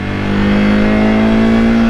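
Royal Enfield Himalayan 450 motorcycle engine revving hard toward about 7000 rpm, a loud, close, steady high-pitched drone with a sustained tone and no pauses, running alone with no talk over it.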